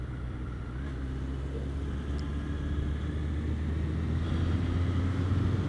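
A Honda CB1100 motorcycle engine runs during a ride, noticeably quieter than a Kawasaki ER6. It gives a steady low rumble under wind noise that builds gradually as the bike accelerates, and no one speaks.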